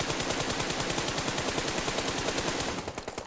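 Sustained rapid automatic gunfire in PUBG sprays at an even, fast rhythm with loud, close shots, then cuts off abruptly near the end.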